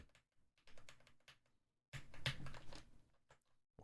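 Rapid clicking keystrokes on a computer keyboard during a Commodore 64 stream, two quick bursts of typing separated by a short pause, close and fairly quiet.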